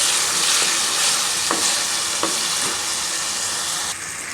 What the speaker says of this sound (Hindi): तो जनाब आलू को हमने तकरीबन 1 मिनट के लिए कर दिया है फ्राई।